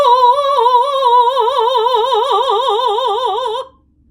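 A solo singing voice holds a steady tone that turns into a wide, exaggerated vibrato where an intended trill between two pitches fails, the wobble growing faster toward the end before the sound cuts off into silence.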